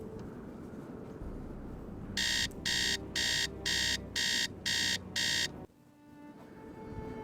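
An alarm clock in the Nancy Drew game Treasure in the Royal Tower rings in seven evenly spaced, loud electronic bursts over a low ambient game background, then stops abruptly.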